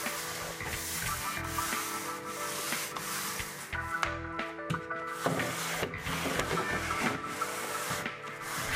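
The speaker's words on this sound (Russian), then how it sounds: "Затем обработайте поверхность наждачной бумагой, чтобы улучшить адгезию краски." Steady scratchy rubbing of sandpaper across a painted stair surface, continuous back-and-forth strokes at close range, fairly loud with no voices.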